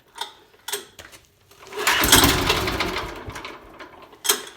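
A 1968 Sears Super 12 tractor engine cranks and sputters, trying to start, with a few short chugs followed by a longer rough burst of engine noise that fades, then another brief chug, heard close.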